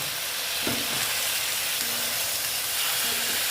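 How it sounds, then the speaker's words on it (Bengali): In a hot pan of potatoes for radish ghonto, added water sets off a steady, loud sizzle and hiss up close, with faint stirring clinks throughout. "আমাকে এখানে অল্প জল অ্যাড করতে হবে কারণ আলুগুলো সেদ্ধ হবে"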